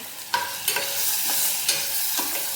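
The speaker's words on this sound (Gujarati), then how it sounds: "આમાં હવે આ બધું ટમેટાં અને લસણ આમાં નાખી દેવાનું અને સરસ રીતે હલાવી લેવાનું" Tomatoes and garlic sizzle loudly in a pan of cooking vegetables as a spoon stirs them, with a few sharp scraping strokes over the steady frying hiss.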